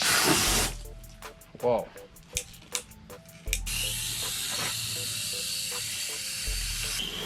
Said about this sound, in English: Got ourselves a hose, wash pit.